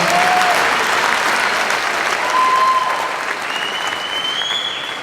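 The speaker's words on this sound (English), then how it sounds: "Round of applause." Sustained applause from an audience at a Mike Tyson interview event in Dublin, a dense steady roar of clapping that fills the whole stretch, with a few faint whistles rising over it.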